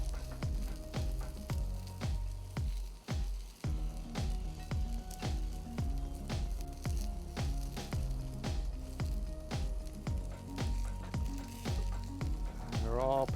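Bison burger sliders sizzle loudly and steadily on a Blackstone griddle, with regular light ticks and scrapes cutting through the constant frying hiss.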